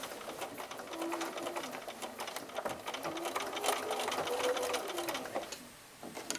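A sewing machine runs steady, rapid stitches along the flange of a quilt binding, holding a close, continuous mechanical buzz the whole way through, with no talk over it.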